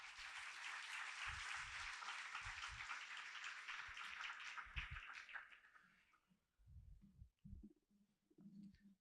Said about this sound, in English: Your applause, please.